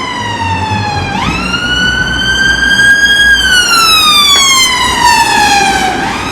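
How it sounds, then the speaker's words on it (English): A loud, close ambulance siren wails continuously in New Cross, London, its pitch sweeping slowly up and down in long cycles as the vehicle passes nearby. "this is the third ambulance within 10 minutes"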